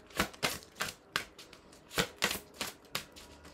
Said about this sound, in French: je prends une carte de Tony Carmine Salerno